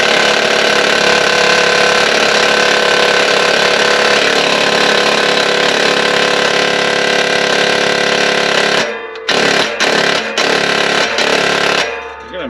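An impact wrench rattles loudly and steadily during exhaust work in a shop, the continuous buzz running for several seconds before cutting into short bursts near the end.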